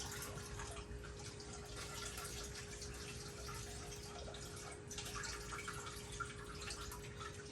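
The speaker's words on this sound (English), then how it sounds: "we have to pull that bag of skins out and basically squeeze the juice out of this" Wine juice from a squeezed bag of grape skins drips and trickles steadily into a container, a continuous wet patter with small splashes, close and even throughout.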